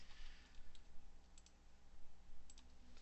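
A joint name is typed on a computer keyboard in Autodesk Maya 2019: a quiet run of light key clicks in uneven bursts over low background hum.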